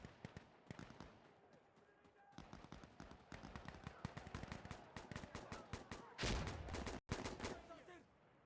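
Rapid bursts of gunfire from the shooter game Insurgency Sandstorm crack in quick repeated volleys, with a dense flurry near the end, while players talk over the action.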